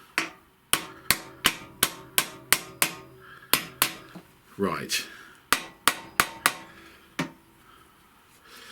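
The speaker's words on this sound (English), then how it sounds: "so by me giving it a little tap on the outside, I shouldn't be causing any damage" A hammer taps a headset bearing into the frame of a Honda Vision 110 scooter during a rebuild: about fifteen sharp, close metallic knocks in uneven bursts, with a brief spoken word midway.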